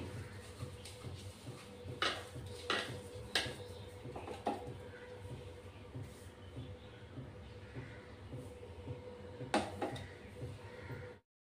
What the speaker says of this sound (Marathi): आणि आता मिक्स करून घेऊ मसाला